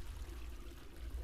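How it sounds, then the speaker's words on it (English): Running water from a toilet in a video game, a steady, faint trickling pour with no voices over it. "Why are we hearing running water?"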